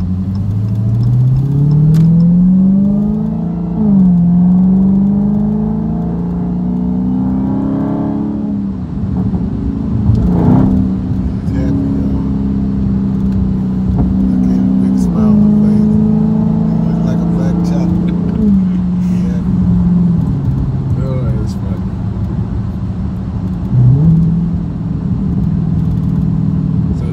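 A 700+ hp Dodge Hellcat accelerates hard. The engine roars loudly from inside the cabin, its pitch climbing and dropping with each gear change over a long pull. Voices talk over it throughout.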